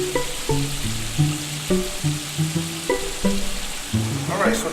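Pasta sauce sizzles and simmers in a pan with a steady, close crackling hiss, playing under a louder melodic music track for the whole stretch.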